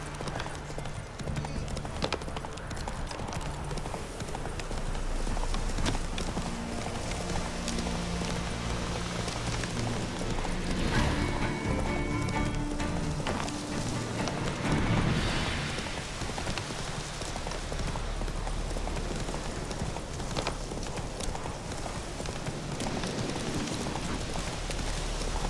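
Hoofbeats of Roach, Geralt's horse in the video game The Witcher 3: Wild Hunt, galloping steadily throughout with a continuous rhythmic clip-clop mixed with rain-like ambience and game background sounds.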